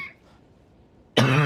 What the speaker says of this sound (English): I really want to stop coughing.